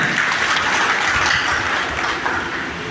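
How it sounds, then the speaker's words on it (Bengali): An audience at a Nitol Tata Motors event claps to welcome the head of operations, a dense, loud burst of applause that fills the whole moment without speech. "সবাই করতালির মাধ্যমে ওনাকে স্বাগত জানাই।"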